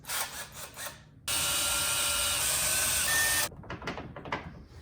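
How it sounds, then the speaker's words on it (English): A power drill whirs steadily for about two seconds while backing screws out of door hinges during a bedroom remodel, loud and close, with handling and rubbing noises before and after. "Ready to take off those hinges."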